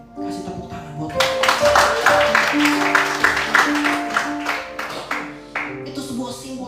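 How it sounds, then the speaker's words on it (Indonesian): A church congregation at an Easter worship service claps together, a loud steady burst of hands that swells and continues for several seconds, with music playing underneath. "Kasih tepuk tangan buat Tuhan."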